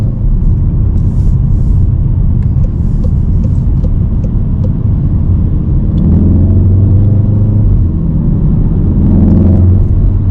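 A Volkswagen Golf R MK7.5 cruising on the motorway, heard as a loud, steady low rumble of engine and road noise inside the car, swelling slightly as it pulls harder near the end.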